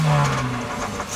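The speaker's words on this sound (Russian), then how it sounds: "можно смело бежать в салон автомобиля, нажать на газ и..." A car engine fitted with an exhaust pipe whistle attachment revs up once nearby, giving a steady droning tone that eases off within about a second.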